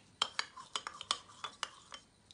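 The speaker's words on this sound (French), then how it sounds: "Je le mets dans l'eau chaude. Je mélange." Spoon stirring baker's yeast into warm water in a bowl, a quick irregular series of bright clinks and scrapes against the sides, close and clear with no talk.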